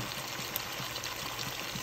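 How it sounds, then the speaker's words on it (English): Water pours into a pot of pinakbet vegetables with calabaza, a faint, even trickling stream heard alone for a couple of seconds. "Then I'm gonna add a little bit of water"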